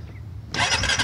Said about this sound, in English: Fires right up, got a nice deep throaty FMF sound to it.